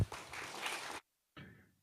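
Audience applause at an agri-food sustainability symposium greets a speaker: a burst of many hands clapping for about a second, then a sudden stop and a brief quieter patter.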